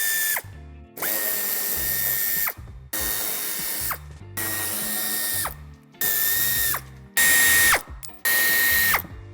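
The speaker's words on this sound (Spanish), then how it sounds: "A ambos lados del pase de ruedas aflojaremos un tornillo que nos sujeta justamente la esquina" A power drill spins to loosen screws on a Volkswagen Passat B8 bumper, running in seven short, loud whirring bursts separated by brief silences, each ending with a falling whine, close up and without talk.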